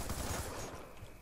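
Rapid automatic gunfire from a weapon in Call of Duty Black Ops II, a dense, steady stream of shots rattling close and fairly faint throughout.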